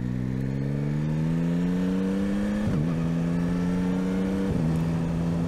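The CP3 three-cylinder engine of a Yamaha Tracer 9 GT hums steadily as it pulls, then two quick shift blips interrupt the tone, including a downshift from second to first, with the engine note holding loud and close throughout.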